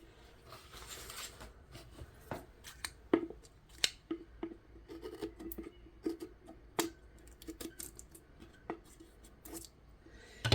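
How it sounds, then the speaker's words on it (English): Quiet, close snips and crisp clicks of scissors cutting, irregularly spaced, against a soft background hum. "Now we're just going to trim the bottom. So I'm going to try with my scissors."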